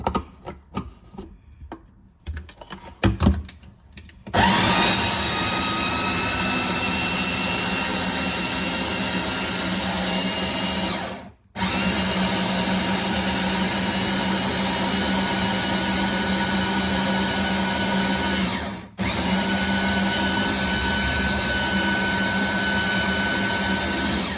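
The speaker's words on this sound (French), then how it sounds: "Le sucre et je vais mixer." A blender purées raspberries with sugar, starting after a few soft clicks and knocks into a loud steady whirring drone that briefly cuts out twice before resuming, with no speech.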